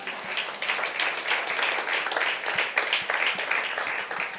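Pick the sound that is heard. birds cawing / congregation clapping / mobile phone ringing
congregation clapping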